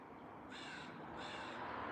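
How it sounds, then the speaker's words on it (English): Crows cawing from a tree outdoors, two drawn-out harsh calls a second apart, moderately distant over a steady background hiss. "I'm pretty sure, where the birds are talking from"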